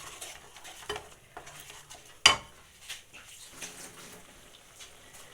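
Chicken momo filling is being mixed in a bowl, a soft, quiet churning with light scrapes and one sharp clink of a spoon against the rim.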